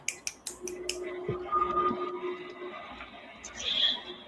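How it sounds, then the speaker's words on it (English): An audience at an online open mic snapping fingers and clapping: a few sharp snaps at the start, then a murmur of scattered softer clicks and taps continuing underneath. "Clap it up, snap it up"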